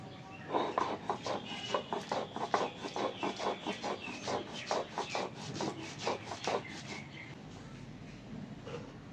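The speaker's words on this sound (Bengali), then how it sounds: "এখানে আছে চার মগজ আর পোস্ত, একসঙ্গে বেটে নেবো।" Melon seeds and poppy seeds ground together into a paste for cooking: close, rhythmic rubbing and grinding strokes repeating steadily for several seconds, then easing off.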